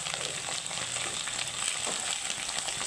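Taro pieces tinted with a little turmeric frying in a pan, a dense continuous crackling sizzle that stays steady and close throughout, with no voices.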